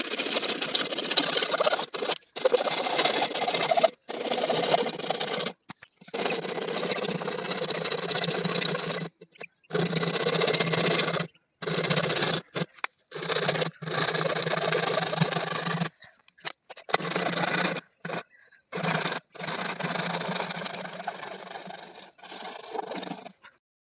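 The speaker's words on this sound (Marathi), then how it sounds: "खालच्या आपली 4 इंची आता पाईप आहे ना, ती कापायला लावलेलं आहे" A 4-inch pipe is cut in repeated bursts of harsh, grinding cutting noise broken by short silent gaps, fairly close and loud, with no talking over it.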